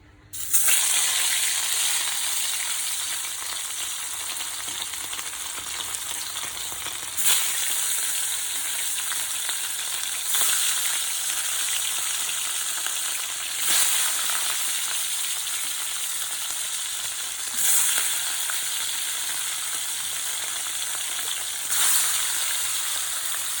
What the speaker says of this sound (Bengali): এদিকে কড়াইতে তেল দিয়ে দিয়েছি এবার মাছগুলো দিয়ে দেবো